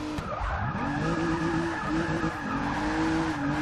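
A Rolls-Royce drifting in the Forza 6 racing game: a sustained, loud tire squeal with sliding pitch, layered over a droning engine note, close and continuous without speech.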